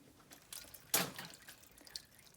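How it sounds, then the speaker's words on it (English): Water poured into a cooking pot holding cleaned, filleted dried peppers, heard as a faint brief splash with a few soft drips. "and put some water"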